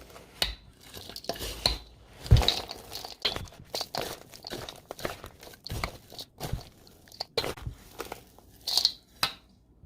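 Frozen grapes and blackberries are stirred in a bowl for homemade bird suet, giving irregular crunching, clacking and scraping bursts at close range with brief pauses between strokes.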